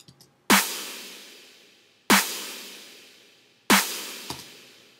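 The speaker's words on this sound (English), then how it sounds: "There's that snare and then the clap on top." Three sharp, punchy hits of a layered snare drum sample with a clap stacked on top, each with a long reverb tail; the hits arrive evenly and alone, with a fainter fourth tap near the end.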